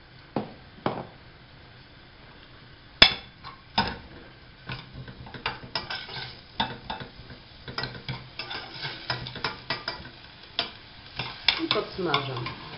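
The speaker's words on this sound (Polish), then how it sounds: "Podsmażam." Small diced onion, salted with a pinch, fries in a heated pan while a utensil stirs it, giving a low steady sizzle broken by repeated close scraping and tapping strokes that grow busier over time.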